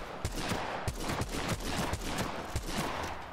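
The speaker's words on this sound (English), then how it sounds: "I'm trying to shoot these as fast as I can while keeping one bullet in my chamber so I don't have that long reload time." Rapid gunfire at firing range targets in the video game Apex Legends, a quick string of about eight sharp, evenly spaced shots, close and steady, with no talking.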